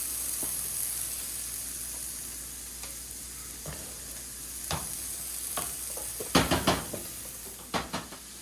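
Mushrooms and onions frying in a pan, a continuous sizzle punctuated by clattering scrapes and knocks of a utensil against the pan, growing busier toward the end.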